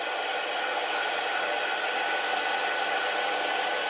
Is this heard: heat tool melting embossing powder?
yes